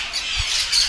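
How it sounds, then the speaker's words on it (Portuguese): Parrots or parakeets in a veterinary hospital corridor squawk harshly, a continuous loud, raspy cry filling the whole moment, close and without talk. "As aves."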